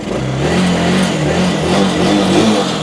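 Used motorcycle scooter engine running and revving up close, a loud, steady buzzing drone with rising and falling pitch as the throttle is twisted.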